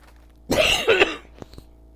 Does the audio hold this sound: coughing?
yes